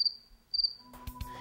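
Crickets chirp in short, high, sharp bursts close by, then a few clicks and rustles join in briefly.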